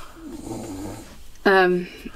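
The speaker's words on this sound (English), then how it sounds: "we're sorry about the snoring, it's not us, it's the dog" A dog snoring inside a caravan, a low rumbling breath followed by a louder, rasping snort close by, with quiet room noise around it.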